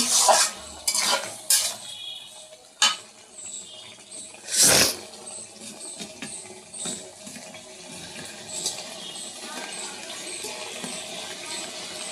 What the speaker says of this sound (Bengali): এদিকে আমি এই যে ধুন্দুলের তরকারিটাও কষাচ্ছি